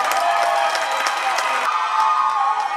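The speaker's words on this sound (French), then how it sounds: "Alors un tonnerre d'applaudissements si ça vous a plu" Pageant show audience applauding and cheering loudly, a dense continuous wash of clapping and crowd noise that persists throughout.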